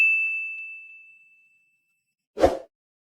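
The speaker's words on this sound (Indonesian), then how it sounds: "nyalakan lonceng notifikasinya" A single bright bell ding rings out and slowly fades, followed by a short soft whoosh or plop.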